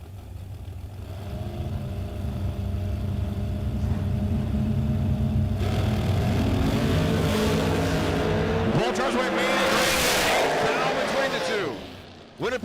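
Drag racing cars launch down the strip at a drag racing event, the loud engine roar building and rising in pitch as they pull away. An announcer talks over the noise.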